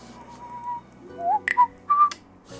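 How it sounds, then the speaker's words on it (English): A person whistles a few short, thin melodic notes near the listener, loose and unhurried, against a quiet, faintly humming room with a light click or two. "Oi, stop whistling."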